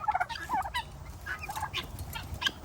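Big turkeys gobbling in a backyard flock, a series of loud, warbling gobbles close by over faint background noise, no talk.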